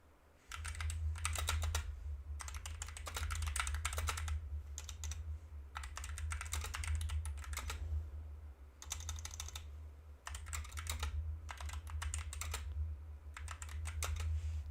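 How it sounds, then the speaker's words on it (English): Steady computer-keyboard typing in close, continuous bursts with brief pauses between runs, over a low constant hum, while entering a futures trade during live day trading; no one speaks. "Let me type it first."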